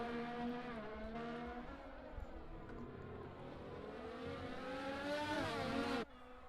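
Ferrari race car spinning out on a tricky Hungarian GP circuit in a PC racing game, engine droning steadily with harmonic revs rising and falling for about six seconds before cutting off abruptly.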